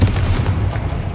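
Fiery Confringo blast spell in Hogwarts Legacy, a dense, sustained booming rumble with heavy low-end crackle lasting over a second, loud and alone without voices.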